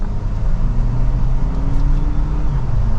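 A hybrid SUV engine in sport mode accelerates through its gears with a steady, loud, low drone from inside the cabin. The pitch climbs slowly and there is no talk.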